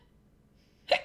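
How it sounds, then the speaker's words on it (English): A single short hiccup pops out near the end after near silence, close and fairly loud. "Oh gosh, hiccups."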